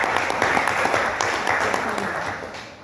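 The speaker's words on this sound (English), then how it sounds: "On n'a qu'à les applaudir en fait." Conference audience at an international literature event applauding steadily, a dense wash of many hands clapping at close range that holds for about three seconds before easing slightly at the end.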